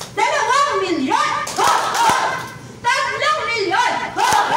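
Training presentation audience at a Philippine travel and tours event clapping and cheering in bursts, with an announcer's voice shouting over the crowd between swells of applause.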